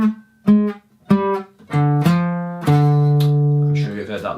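An electric guitar plays a riff, a handful of distinct picked notes stepping along before a longer sustained note rings out and fades.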